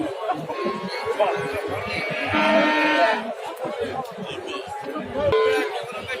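Cattle moo repeatedly amid the chatter of a crowd at a livestock market in Kashkar Kyshtak, with people talking nearby throughout.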